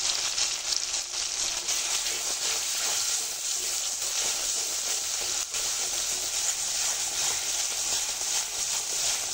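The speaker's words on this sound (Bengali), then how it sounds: "মশলা আমার খুব ভালো করে ভাজা হয়ে গেছে।" A ground paste of ginger, garlic, cumin and onion with salt and turmeric fries in hot oil, giving a steady, loud hiss and sizzle that runs unbroken without any voices.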